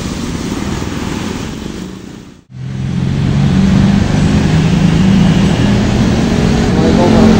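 An intercity bus rolls past on the road near Lebak Bulus terminal at Pasar Jumat, Jakarta, its engine roar and traffic rumble loud and close, briefly dropping out before the heavy engine drone swells again amid street noise.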